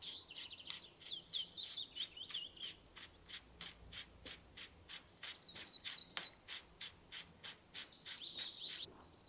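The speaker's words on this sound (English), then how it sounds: "I hope you can hear the birds." Birds sing by a small, still Scottish loch, with repeated bright chirps and warbling phrases coming in quick bursts, faint and somewhat distant over a quiet background.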